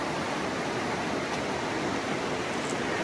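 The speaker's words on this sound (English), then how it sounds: "We've got a beautiful river here." Flowing river water, a dense, even rushing wash of sound, loud and close, continuous without pauses.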